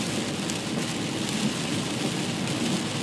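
Steady, heavy rain pours down all day in the Johnson Creek area, a dense, even hiss of drops on surfaces with no pauses and no voices.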